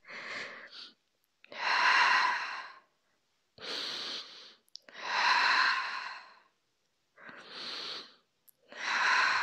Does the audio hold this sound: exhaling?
yes